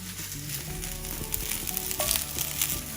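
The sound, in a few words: cauliflower and garlic frying in a pan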